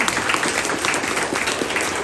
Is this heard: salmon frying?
no